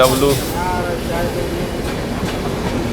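Passenger train travelling from Indore toward Amritsar rolls along the tracks, a steady broadband rumble with faint rail noise throughout, while someone talks over it near the start.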